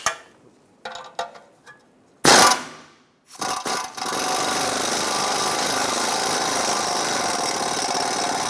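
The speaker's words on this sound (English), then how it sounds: "I'm going to use an E12 socket and take these two bolts out." Work on a 2004-2010 BMW X3 ball joint: an E12 socket loosens bolts with a few sharp clicks and a short burst, then a power tool whirs steadily and loudly to the end.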